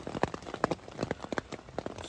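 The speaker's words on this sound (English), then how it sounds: "It's been raining since, well, pretty much when I went to bed." Rain patters on a camping tent, an OEX Phoxx 2 v2, in the early morning, sounding as irregular close taps and drips against the fabric over a quiet background.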